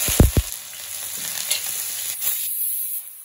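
Onions frying in hot oil with mustard seeds and fennel seeds for a mutton curry, giving a continuous hiss with a few clanks of a stirring spoon near the start before fading quieter.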